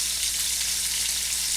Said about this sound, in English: We're going to have a nice sear on the bottom.